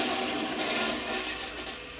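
A ceramic flushing toilet discharges in a steady, full rush of water, close and continuous with no voices.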